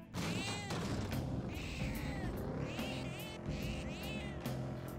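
Repeated cartoonish cat meows from Persona 5 Royal, triggered again and again by a button in the game, sounding loud and close over background game music with several drawn-out calls in a row.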